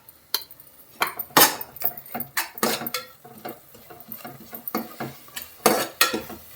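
A spoon scrapes and clatters in a pan as garlic paste is stirred while frying for tomato rice, the irregular metallic strokes sounding close and fairly quiet, with faint sizzling beneath.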